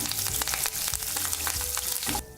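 Curry leaves hit hot oil with peanuts and sizzle hard, a dense, bright crackle that fills the whole clip and then cuts off sharply at the end.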